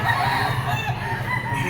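A Gilmore Picom green-legged stag rooster crows close by at a poultry market in Lipa, a short, loud, strained call over a busy background.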